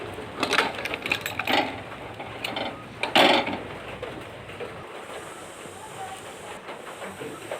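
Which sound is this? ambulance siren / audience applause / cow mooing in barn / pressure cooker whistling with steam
pressure cooker whistling with steam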